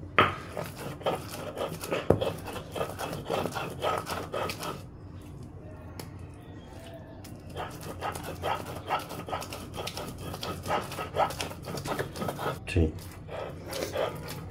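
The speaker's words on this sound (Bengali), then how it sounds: "মিশিয়ে নিয়ে ভালোভাবে বেটে নিতে হবে।" Shrimp and moushim paste is ground on a shil-pata grinding stone, making repeated rhythmic scraping and knocking strokes of stone on stone, close and steady with a brief pause, while someone talks over it.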